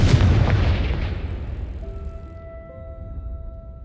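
A single heavy Confringo spell explosion in Hogwarts Legacy, a loud booming blast that rumbles and decays into quiet sustained game tones.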